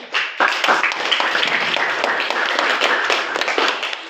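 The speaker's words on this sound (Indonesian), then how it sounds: "Ya, tepuk tangan dulu teman-teman." A classroom audience of students claps together in a dense, steady burst of applause that starts quickly and carries on evenly throughout.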